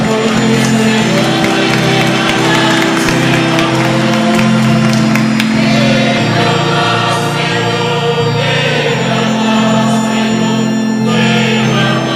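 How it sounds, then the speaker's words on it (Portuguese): A church congregation at Sunday Mass claps for the young people, sustained dense applause filling the space over steady organ or music tones, continuing evenly throughout. "A salva de palmas dos jovens, coragem."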